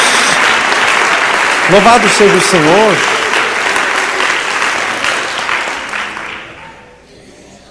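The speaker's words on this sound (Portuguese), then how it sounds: "Dá uma salva de palmas do Senhor." A church congregation claps in loud, dense applause that fades gradually toward silence, with a voice calling out praise over it early on.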